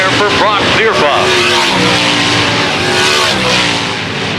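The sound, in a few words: race cars on a dirt oval track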